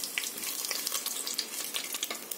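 Cinnamon, cloves and bay leaf crackle in hot oil for an egg biryani, a soft, fairly quiet spattering hiss with quick irregular pops and ticks running throughout, no voices.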